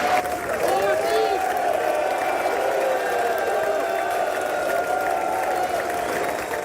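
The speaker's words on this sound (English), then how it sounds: "The Prime Minister walked into loud cheer and applause as lawmakers welcomed him." Lawmakers in the US Congress greet the Prime Minister with a sustained wash of applause and cheering, a dense, steady crowd roar that continues without a break.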